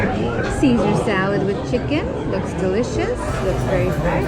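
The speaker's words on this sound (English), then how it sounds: "Sorry for the noise. It's a packed house here at this restaurant." A person talks up close over a dense, steady wash of crowd chatter in a packed restaurant in Fredericton, New Brunswick, buzzing with many conversations.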